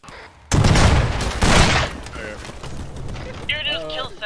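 Gunfire and an explosive blast in the video game Arma 3, a sudden loud burst followed by a second heavy boom that fades out, with a voice heard toward the end.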